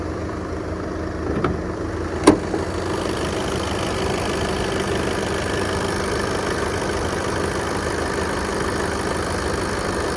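A 2018 Skoda Octavia 2.0 TDI diesel engine idles steadily and evenly for the whole stretch, with one or two brief clicks near the start.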